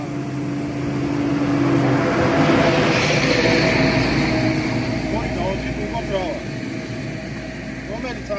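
A Toyota Hilux Vigo pickup with a 2.4-litre D4D turbo diesel runs steadily nearby, its low engine hum holding even throughout while a person talks over it.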